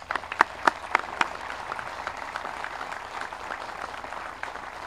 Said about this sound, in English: So how about a round of applause for our bands?